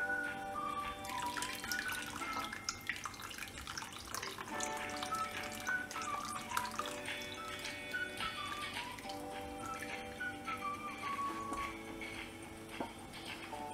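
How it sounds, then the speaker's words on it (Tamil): Tamarind water is poured into a pot of drumstick sambar in a home kitchen, a faint trickling splash running steadily under light clinks and a low background hum, with no talking. "இந்த புளி தண்ணியை இந்த சாம்பாரில் ஆட் பண்ணிடலாம்."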